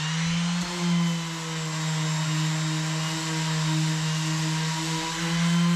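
A power sander working on wooden boat bulkheads whirs steadily with a low motor hum and a constant gritty hiss, continuous and close, with slight shifts in pitch.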